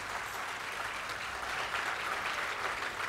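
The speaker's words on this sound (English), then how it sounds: "Let's have a huge round of applause for our little stars" An audience applauds after a school children's LKG performance at a school in Lucknow, with continuous, even clapping from a crowd heard at moderate distance.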